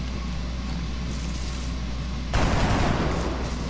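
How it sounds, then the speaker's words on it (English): A rifle shot in the turn-based video game XCOM Long War, heard as one sudden loud burst that cuts in partway through and then holds as a sustained roar over a steady game-ambience bed, with no talking. "Barrett's going to take a shot."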